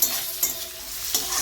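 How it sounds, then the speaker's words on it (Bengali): Ginger-garlic paste frying in a pan, a bright steady sizzle with two or three brief scrapes as it is stirred, close up and with no talk. "মিলিয়ে নিয়ে মোটামুটি একটুখানি ভেজে তারপরে বাকি জিনিসগুলো দেব।"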